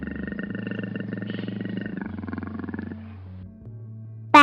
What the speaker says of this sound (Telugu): చిరుతపులి